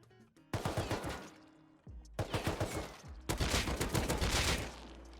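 Rapid automatic gunfire from the survival game Rust comes in three loud bursts, each a quick string of close, punchy shots, separated by brief pauses, with no talking over them.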